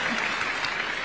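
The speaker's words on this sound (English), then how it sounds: "A round of applause for her." Audience applause at a meeting with graduate interns, a brief steady patter of clapping filling the whole moment.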